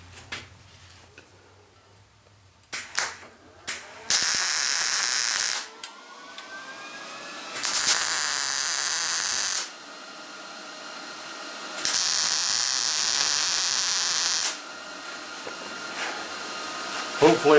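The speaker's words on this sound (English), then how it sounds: "So let's go ahead and get that tacked in place." Tack welding a steel oil tank used for quenching knife blades: three loud, steady hissing bursts of arc welding, each lasting about two seconds, separated by pauses with faint clanks and shop handling noise.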